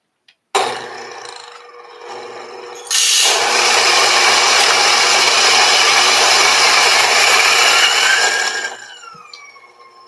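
Coffee beans ground in a grinder set for pour-over coffee, a loud close whirring roar that starts, drops briefly, then runs steady for several seconds before winding down.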